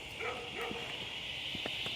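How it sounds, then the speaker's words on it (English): A golden retriever barks at someone outdoors in the rain, with several short bursts heard over a steady hiss of rainfall. "there's this golden retriever just sitting here barking at me"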